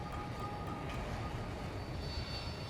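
A fixed-wing airplane engine in the shooter game Battlefield 2042 drones steadily and continuously as a broad, rumbling roar with no talk over it.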